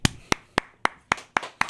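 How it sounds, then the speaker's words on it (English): Seven sharp hand claps close to the microphone at a live show at The Complex, coming in quick, slightly uneven succession with no talking. "I don't want to clap too much into the microphone"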